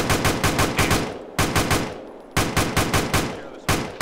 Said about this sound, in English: They're firing at me from the hill now.